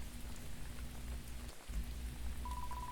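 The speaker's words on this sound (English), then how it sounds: "it sounds like the pitter-patter of rain" Steady pitter-patter of rain fills an Undertale fangame scene, a dense even hiss with low rumble beneath, briefly dipping mid-clip before resuming, with a faint repeating tone entering near the end.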